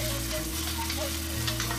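Minced meat keema fries on a high flame in a karahi, a continuous loud sizzling hiss with a low steady burner hum underneath, close up and unbroken.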